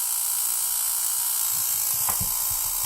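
An EMP generator zaps an iPhone 5S with a constant high electric whine and buzz, and bursts of crackling pulses join in during the second half, close and loud.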